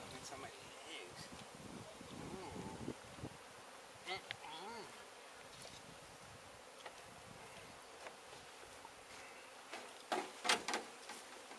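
Bees from a hive under a travel trailer buzz faintly in close passes over rustling and handling noises during a hive rescue, with a few louder thumps near the end.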